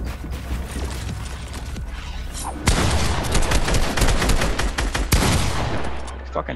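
A charge shotgun fires in a first-person video game amid a dense, continuous barrage of gunfire, with two louder sharp blasts standing out over the clatter.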